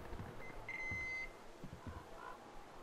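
A short electronic beep rings out in the Metro Exodus game world, a single sustained tone lasting roughly half a second above low, rumbling background ambience, followed by muffled low thuds.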